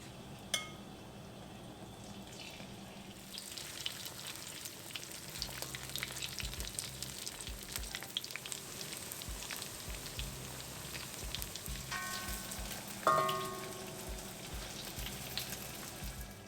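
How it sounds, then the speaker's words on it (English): Cauliflower (gobi) frying in small batches in hot oil gives a steady, dense, rain-like crackle that carries on throughout, with occasional louder pops and clinks. "we'll fry the gobi in small batches. Okay, now we'll add the gobi to the hot oil"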